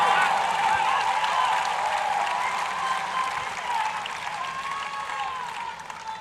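A tennis crowd at a 2014 US Open fourth-round night match between Kei Nishikori and Milos Raonic breaks into loud, sustained cheering and applause that fills the whole stretch and eases slightly toward the end.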